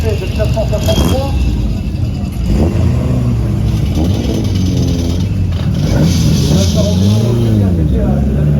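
A 1963 Porsche 356 coupe race car drives a circuit, its engine droning loudly with rising and falling revs throughout, under continuous commentary talk.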